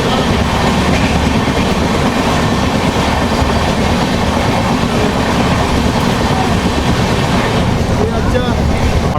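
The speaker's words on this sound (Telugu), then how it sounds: "మనమైతే విశాఖ ఎక్స్ప్రెస్ ట్రైన్ ఓవర్టేక్ చేస్తున్నాము" A long-distance express passenger train travelling in a general coach while overtaking the Visakha Express, a loud steady roar of wheels and rattling carriages with rhythmic clatter throughout, a voice speaking over it.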